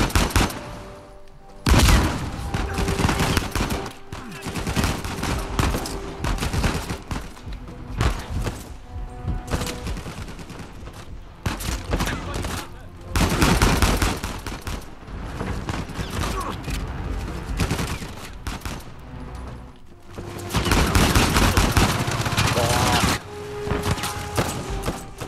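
Bursts of gunfire and machine-gun fusillades from the video game Uncharted 4, in a sniper firefight, loud and sustained across the whole stretch with mechanical clatter and thuds between volleys.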